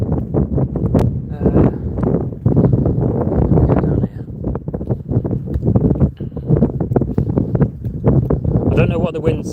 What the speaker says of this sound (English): The wind is going to be very bad here.